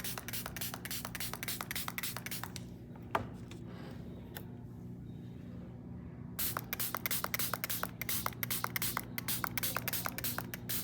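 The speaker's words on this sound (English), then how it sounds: "now take the spray bottle with water, just spray it." Short bursts of a hand spray bottle misting water onto watercolor paper, a rapid run of crisp sprays, then a pause with a faint click before another quick series of close, rhythmic spritzes.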